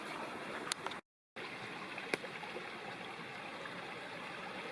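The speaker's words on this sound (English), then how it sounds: "And here's the creek." A creek flows along a hiking trail below Black Mountain on the Cumberland Trail in December, a soft steady wash of running water heard from a distance with a brief dropout and a couple of faint clicks.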